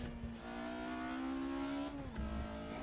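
A Volkswagen Scirocco Group 2 race car engine in RaceRoom Racing Experience drones and revs in a steady, tonal whine, pitch climbing gradually before dropping as a gear changes, close and continuous.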